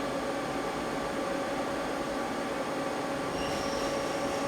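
A Mazak CNC lathe spindle runs at about 300 RPM in manual mode, giving a steady, even mechanical whir with a constant tone and broad background noise throughout, and no talking.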